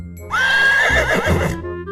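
A horse used for making deliveries gives one loud, close neigh, a rising then wavering whinny lasting just over a second, with no voices.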